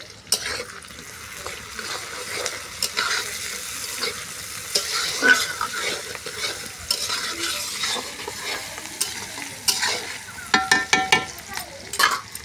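Chicken pieces and onion frying in oil, a continuous sizzle with stirring and scraping of a pan throughout, brief clinks of utensils near the end, and some faint talk in the background.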